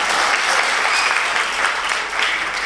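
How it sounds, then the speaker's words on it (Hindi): Audience applause at a devotional discourse, steady, dense clapping from a large crowd that stays loud throughout with no talk over it. "एक बार मेरे सम्मान में भी तालियां बजाइए"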